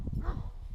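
A brief, low security dog bark or gruff woof close by, over a dull background rumble.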